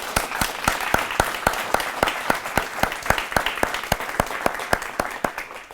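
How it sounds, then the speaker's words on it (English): Campus audience applauding student creative writers at a reading event, a sparse crowd whose individual sharp claps ring out in a steady rhythm over a soft bed of lighter clapping. "So let's give them a round of applause"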